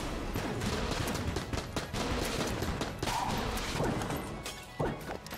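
Enemies unleash streams of bullets in Enter the Gungeon, a dense, steady clatter of rapid shots and impacts with sharp cracks and smashes throughout, fairly quiet overall and with no voices.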